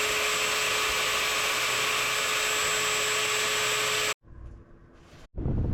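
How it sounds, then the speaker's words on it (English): A wood router with a 1/4 inch round-over bit whines loudly and steadily as it rounds over a maple, cherry and walnut cutting board edge, stops abruptly, then spins back up after a short pause. "Here's a 1/4 inch router bit to do the round over."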